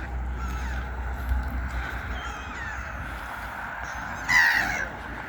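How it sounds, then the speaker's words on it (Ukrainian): A single harsh gull cry rings out once near the end over a background of wind and low outdoor rumble, by a sea bay on the outskirts of Odesa. "Чайки кричать."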